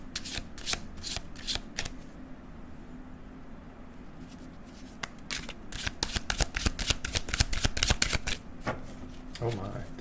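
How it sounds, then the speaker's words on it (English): Tarot cards shuffled by hand in rapid riffling bursts, with a quieter pause in the middle before a denser run of shuffling; a voice talks faintly in the background. "let's throw some cards for Stacy"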